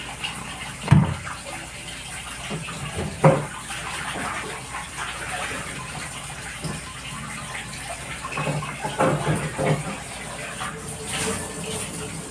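Water runs steadily in a sink or tub drain being unclogged with a little chemical mixed into water, with a couple of brief splashy bursts and someone talking over it.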